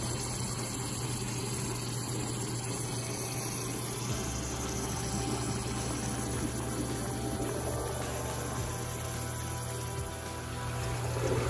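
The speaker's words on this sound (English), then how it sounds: "As the water from the inner chamber drains down, the water level will gradually go down until it's completely empty." Water draining steadily out of the inner chamber of a Nexus 310 koi pond filter, a continuous close rushing, gurgling wash with a low steady hum underneath, no voices.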